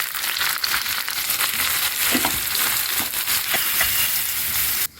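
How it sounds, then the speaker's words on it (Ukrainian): Chopped onion fries in 50 grams of butter in a pan, giving a steady, dense sizzle with faint crackles throughout, heard alone with no talking, before it drops off abruptly near the end. "На пательню кладемо 50 грамів вершкового масла, на якому обсмажуємо цибулю"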